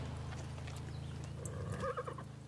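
A horse in Far Cry 6 whinnies sharply over a low steady hum, with a few hoof clops underneath.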